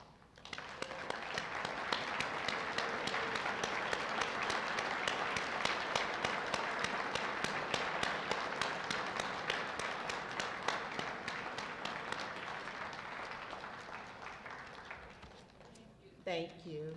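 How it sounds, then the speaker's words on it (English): An audience at a meeting applauds committee directors as they stand, a dense, steady round of clapping that lasts about fifteen seconds before thinning out, with a voice starting to speak at the end. "If I can please have the directors stand for a round of applause."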